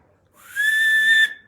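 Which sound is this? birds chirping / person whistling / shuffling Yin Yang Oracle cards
person whistling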